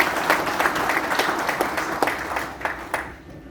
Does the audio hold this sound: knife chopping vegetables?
no